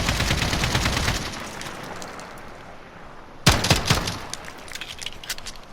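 RPK light machine gun firing in Modern Warfare, a long rapid burst that stops, then a second short loud volley with echoing tails, heard close with no talk.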